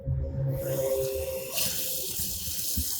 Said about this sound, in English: I just shoot a little water in there